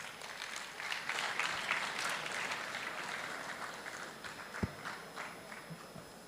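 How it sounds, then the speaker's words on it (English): Audience applause fills a tech fair hall, a steady dense clapping from a crowd that holds for several seconds, moderately loud and without talk over it. "A round of applause, ladies and gentlemen,"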